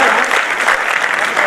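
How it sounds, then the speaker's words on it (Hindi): Loud, dense applause from an audience at an all-India poetry recital (kavi sammelan), a steady close wash of clapping that fills the whole moment. "एक बार ताली बजाइए।"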